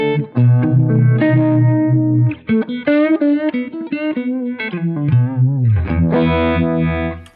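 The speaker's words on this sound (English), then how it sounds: "It's a Uni-Vibe" Electric guitar through a Uni-Vibe pedal gives a warm, milky, swirling tone, with wavering chorus-like pulses on sustained chords and bending single-note lines, loud, close and alone.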